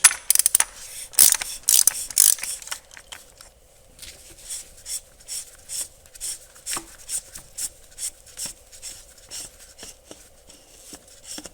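A ratchet works a 32 mm hex oil cooler cap loose on a 2015 VW Jetta 1.8T, giving a close run of quick clicking bursts followed by steady, evenly spaced ratchet strokes.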